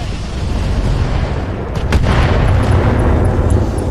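Artemis-guided missiles fire and explode in the mech video game Roguetech, a loud roaring barrage with a sharp burst midway and rumbling blasts continuing under heavy noise.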